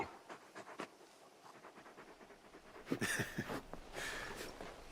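Torgal the dog from Final Fantasy XVI panting close by, a quick rhythmic run of breathy huffs that grows louder and rougher toward the end, heard alone without talk.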